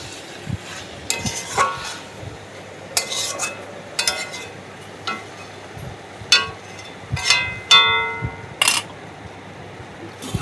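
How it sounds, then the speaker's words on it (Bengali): Chicken pieces being stirred and sautéed with potatoes in a pan, giving intermittent scraping and clanking of a spoon against metal over a faint low sizzle, close and fairly loud. "দেখুন এখানে ভালোভাবে কষিয়ে নিচ্ছি।"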